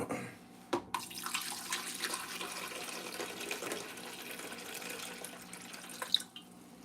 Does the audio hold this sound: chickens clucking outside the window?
no